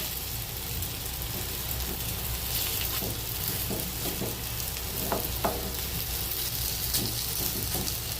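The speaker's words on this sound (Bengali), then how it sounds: "দেখো ডালের বড়া করছি। এখনো এই যে উল্টাচ্ছি।" Lentil fritters (dal bora) sizzle in hot oil with a steady crackling hiss, broken by a few sharper pops and scraping stirs as they are turned, close up and without voices.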